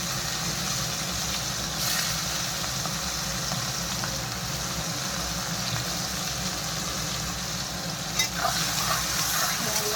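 Onions and green chilies fry in oil in a pan, giving a steady, dense sizzle that runs unbroken from start to finish, with no talk over it.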